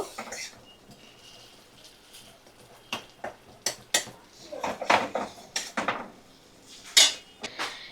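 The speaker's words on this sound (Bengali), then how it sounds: "সমস্ত মশলা ভালো করে আমি কষিয়ে নেব।" A spoon clinks and scrapes against a metal pan while spices are sautéed and stirred for chicken chotpota; the knocks are sharp and irregular, close, over a quiet background.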